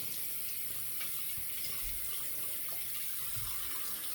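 Water runs steadily from a faucet into a sink while a slant safety razor is rinsed under it, a soft constant splashing hiss with faint clinks.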